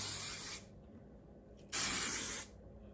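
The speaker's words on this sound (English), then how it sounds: "I'm going to spray some hairspray." Hairspray hisses from an aerosol can in two close bursts, each about half a second to under a second long, separated by a quiet pause.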